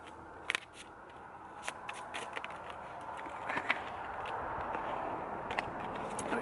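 Tarot cards being shuffled up close, quick papery riffles and soft snapping clicks repeating over a quiet background.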